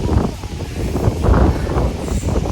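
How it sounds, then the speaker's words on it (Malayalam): Strong gusts of wind in Baku at dusk buffet the microphone in heavy, uneven low rumbles throughout. "കണ്ടോ, നല്ല കാറ്റുണ്ട്"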